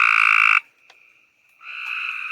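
Frogs on a rainy night give a loud, steady trilling croak that breaks off, leaving a faint thin tone, then a second chorus starts up close.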